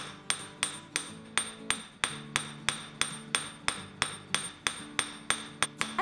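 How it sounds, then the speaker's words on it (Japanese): A small metal hammer strikes a piece of silver being shaped into a guitar pick, giving about twenty sharp, ringing metallic taps in a steady rhythm, close and clear with no talking. "金槌は面の狭い空紙の部分を使って叩いています。"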